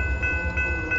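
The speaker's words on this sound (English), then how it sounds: "here on the hot rails of the Kiamichi Railroad" A freight train on the Kiamichi Railroad near Idabel, Oklahoma, heard at night as a steady low rumble with a sustained horn tone above it, loud and continuous throughout.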